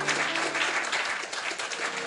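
A church congregation bursts into applause, a dense, even clapping that stays loud and steady from start to finish, with a faint murmur of voices beneath.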